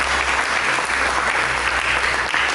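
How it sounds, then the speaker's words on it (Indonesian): Sustained applause fills a church service as a congregation claps together, a thick, even roar of hands that stays loud from start to finish without any talk. "Mari kita berikan tepuk tangan bagi Yesus Kristus"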